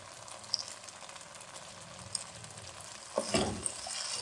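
Chopped onion and capsicum frying in a pan with a quiet, steady sizzle, a few faint clinks, then a louder burst of scraping and frying toward the end, close and without speech.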